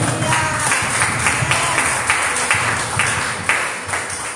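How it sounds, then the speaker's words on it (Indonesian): A congregation claps together in rhythmic bursts. The applause is moderately loud and near, with a faint murmur behind it. "Beri tepuk tangan bagi Tuhan."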